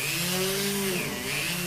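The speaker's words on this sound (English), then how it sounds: "we thought we'd give you a good close-up of it drilling through that side" A power drill whines loudly and close as it bores through metal on a steam wagon build, a continuous grinding pitch that sags and recovers under load.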